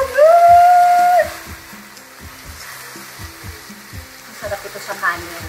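Chicken and Thai basil stir-fried in a hot pan give a loud steady sizzle at first, then it settles into quieter frying with scattered scrapes and stirring clatter, with brief speech over it.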